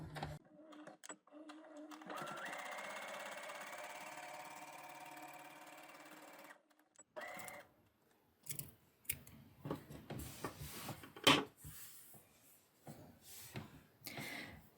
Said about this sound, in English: So let me show you that on our sewing machine.